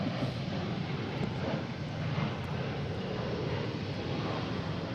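Embraer E170 jet aircraft at Boston Logan airport, a continuous broad engine roar at moderate distance, steady in level throughout with no talking.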